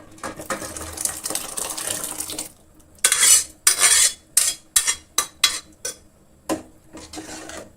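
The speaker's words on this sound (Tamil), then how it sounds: "இப்போ நம்ம எடுத்து வச்சுருக்கிற இந்த பருப்பு தண்ணியோடு அப்படியே சேர்த்திக்கலாம்" Cooked ration toor dal and its cooking water are tipped into a pot of simmering sambar vegetables, with a steady wash of liquid followed by a run of sharp metallic clinks and scrapes from a ladle against the pot. Nobody speaks.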